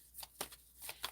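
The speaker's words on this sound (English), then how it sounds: "Being guided to shuffle really quick here." Tarot cards are shuffled quickly in a few crisp riffling bursts, close and clear, with brief pauses in between.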